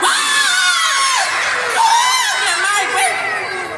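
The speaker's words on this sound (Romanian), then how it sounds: "Ce țipi așa că ne-ai speriat pe toți?" Children screaming and shouting together at a lively Romanian kids' show event in Iasi, loud, close, high-pitched cries in overlapping bursts.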